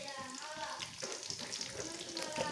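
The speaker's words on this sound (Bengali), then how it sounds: "তেলটা গরম হয়ে গিয়েছে, এর মধ্যে এখন দিয়ে দেবো রসুন কুচি" Chopped garlic sizzles and fries in hot oil in a wok, a steady close crackling hiss that carries on without a break.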